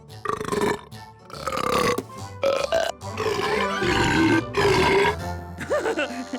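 A series of exaggerated, drawn-out cartoonish burps and grunts, loud and close, with a voice mixed in among them.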